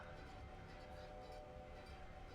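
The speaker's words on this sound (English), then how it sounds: "Making us wait for this long, dirty coal train" Long coal train passing in the Railroader video game, a faint continuous rumble with steady tonal hum and wheel noise, low in level and unbroken throughout.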